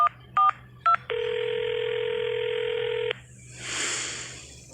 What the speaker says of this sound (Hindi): नाइट ड्यूटी वाले सरिता को कॉल मिलाओ